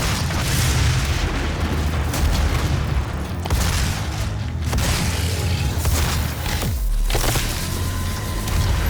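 Rocket blasts and heavy booming explosions from DOOM (2016) combat, loud and dense throughout with overlapping bursts and rumbling low-end impacts, several sharp hits standing out over a constant roar of game action.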